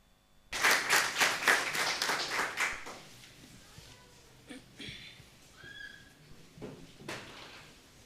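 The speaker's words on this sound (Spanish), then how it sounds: "por favor, con fuertes aplausos" A prayer-service congregation bursts into loud clapping and applause that runs for a couple of seconds, then fades into quieter room sounds with a few scattered claps and faint tones.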